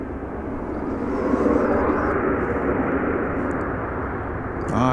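A passenger plane from Wichita Falls touches down at Dallas Fort Worth airport, a steady broadband rumble of engines and rolling noise that swells slightly and holds through a few seconds.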